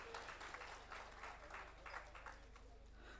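Indoor audience applause at a one-day workshop at a hotel in Ahmedabad: dense, steady clapping from a crowd, fairly quiet and continuous for a few seconds.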